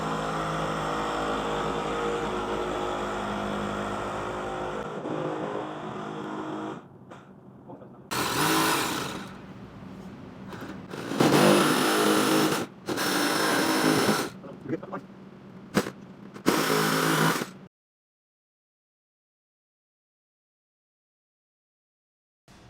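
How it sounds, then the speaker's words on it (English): Power tool drilling and cutting through a plastic trim panel on a 2022-2025 Polaris RZR Pro R 2.0L, a steady whine for five seconds, then loud, uneven bursts of cutting separated by short pauses, ending in silence. "Now we're going to drill a hole to start it."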